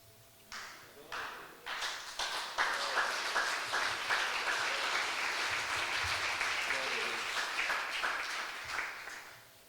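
A church congregation at a Sunday worship service in Sidrolândia, Brazil, bursts into applause that swells and holds steady at a moderate distance, with scattered voices underneath.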